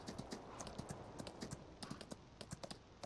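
Horse hooves clip-clop in Farming Simulator 19, a quiet run of rhythmic, fairly even hoof strikes with no talk.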